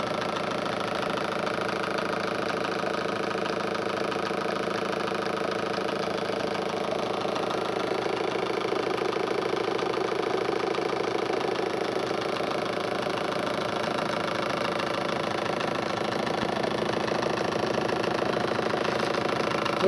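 Four-pole Newman motor running on back EMF from a Newman generator, giving a continuous, even mechanical hum and whir that holds steady throughout with no voices.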